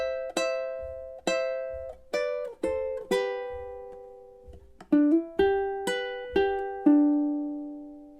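A ukulele plays measures three and four of a song's intro, a sequence of distinct plucked notes in a steady rhythm, each ringing and decaying, clear and close with no voice.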